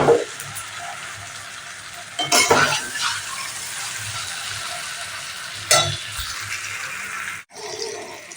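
Chicken for a capsicum chicken dish fries in a pan with a soft, steady sizzle, broken by a few short bursts of stirring and scraping.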